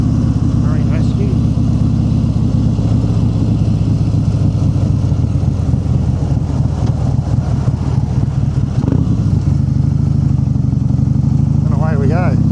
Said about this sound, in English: Philbie, throttle wide open, kickstand up